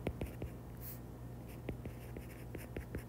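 Marker or pen writing on a board during an algebra lesson on polynomials, with short scratchy strokes in an irregular rhythm, close and fairly quiet, with no talk.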